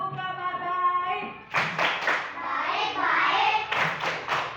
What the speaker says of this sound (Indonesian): Sekali lagi tepuk kabar baik.